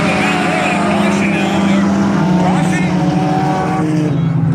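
Four-cylinder class race cars tear around the track at Valley Raceway, loud engine drones rising and falling as cars pass close by, with announcer-style commentary running over the roar.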